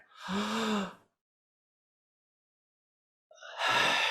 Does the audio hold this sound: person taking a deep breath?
yes